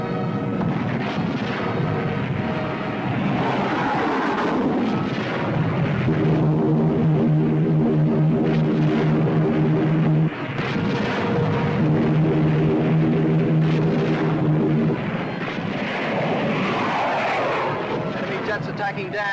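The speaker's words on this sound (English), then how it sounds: "Enemy jets approaching Boulder Dam. Enemy planes coming in." Enemy jet planes roar in toward Boulder Dam in a 1952 war film, a loud sustained rumbling drone with booming bursts like gunfire, swelling and fading over nearly twenty seconds while voices speak over it.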